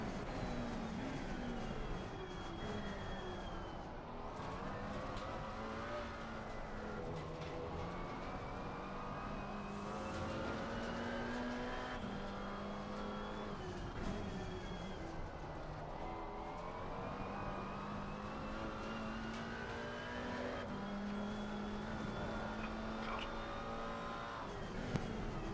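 Race car engines in Assetto Corsa Competizione, a multiclass TCX and GT4 event at Indianapolis, whine continuously through gear changes, rising and falling as the cars accelerate and brake. A rival car chases close behind, and tyres screech briefly.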